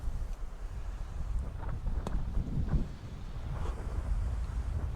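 Wind gusts steadily on an outdoor golf practice range, a low rumbling buffet across the microphone with faint scattered knocks, fairly quiet and without talk.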